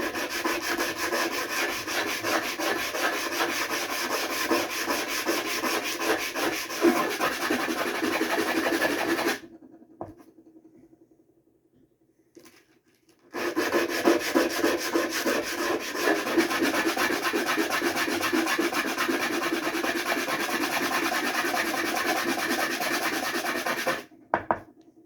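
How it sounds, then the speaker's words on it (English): A blue calcite gemstone is ground by hand on a faceting machine, making a close, steady gritty rubbing and scraping in two long passes with a brief quiet pause between them. "So we're going to grind away a little bit more."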